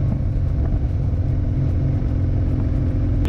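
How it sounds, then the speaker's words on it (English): A Harley-Davidson Road Glide motorcycle engine rumbles steadily close by, a deep continuous drone riding alongside traffic, with no talking. "Got a pretty sweet road glide coming up alongside of me here."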